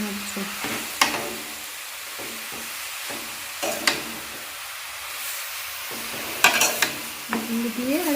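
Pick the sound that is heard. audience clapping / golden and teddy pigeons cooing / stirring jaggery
stirring jaggery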